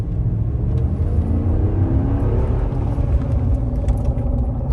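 A Ram truck on 35-inch tires with a roar pedal accelerates hard from a stop, its engine a loud, steady low rumble building heavily up close, no voices.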